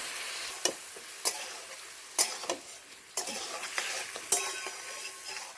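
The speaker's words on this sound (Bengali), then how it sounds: "আবারও ভালো করে মশলাটাকে কষিয়ে নেব দু মিনিটের জন্য" A spice paste (masala) is stirred and fried in a pan, giving a soft steady sizzle broken by repeated sharp scraping strokes of a spoon, fairly quiet and close with no talk.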